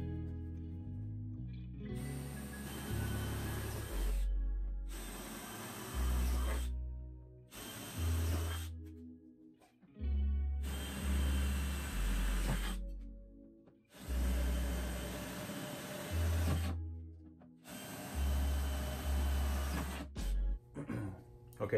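A power drill bores holes for a nutsert and fender bracket while an aluminum fender is fitted on a Jeep Wrangler JK. Six or so loud, close whirring bursts spin up and wind down, separated by short pauses and no talk.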